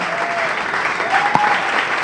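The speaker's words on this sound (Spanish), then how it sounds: "Yo quiero que le brindemos un aplauso" An audience claps at a Venezuelan joropo music video presentation, steady dense applause with one sharp clap standing out, under a faint voice.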